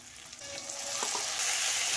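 Sliced onions and a freshly ground spice paste fry in hot oil for a Bengali fish curry with khamalu yam and bata fish, giving a steady close sizzle that swells louder as the paste hits the pan.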